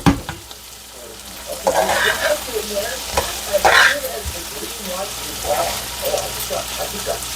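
Spiced okra (ladyfinger) cooks in a pan with a loud, continuous sizzle and frequent scraping stirs, while a voice talks intermittently in the background.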